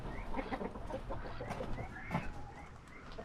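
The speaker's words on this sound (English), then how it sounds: "And now, look at the chickens. Beautiful chickens." Chickens cluck and squawk softly in a steady, busy jumble, a little distant, with faint background noise.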